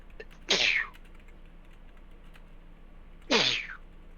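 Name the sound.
sneeze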